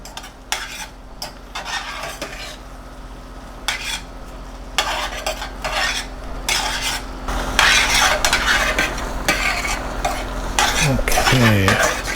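A spoon stirs oyster pasta sauce in a metal pot, giving repeated scraping clinks with a soft simmering hiss underneath, close and moderately loud throughout, with a brief rising squeak near the end.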